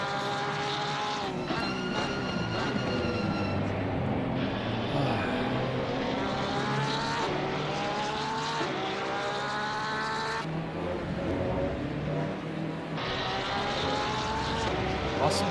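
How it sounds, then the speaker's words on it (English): Porsche race car engines roar in a racing video game at Brands Hatch, with continuous layered revving and shifting pitch from several cars running close together for the whole stretch. "Porsches, man, I can't drive, but they sound so good."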